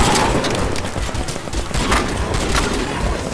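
Gunfire in the Crysis 2 video game, with a shotgun among the weapons, crackles in a dense, continuous barrage of overlapping shots, loud and busy throughout.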